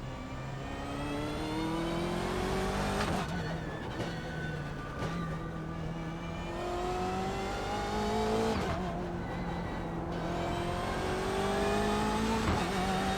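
BMW race car in the iRacing video game, its engine revving loudly and climbing through repeated upshifts, with rising whine, brief drops between gears and occasional tire noise, heard without talk.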